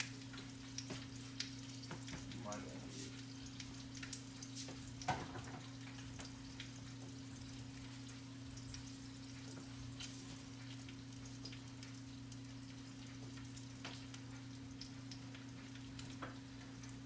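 Roasted bone marrow just pulled from the oven sizzles steadily in its pan, a faint, close crackle with scattered pops over a low background hum, no talking.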